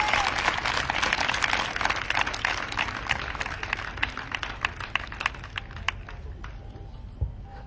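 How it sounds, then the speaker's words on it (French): Applause and scattered clapping from a congregation at an evangelism crusade, a dense burst of claps that thins into sparse, separate claps toward the end, moderately loud. "Est-ce qu'on peut acclamer la parole du Seigneur?"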